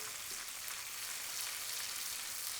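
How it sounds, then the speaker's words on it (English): A steady, hissing sizzle from a pan, close and even, with a soft crackle and no voices. "This is sizzling away."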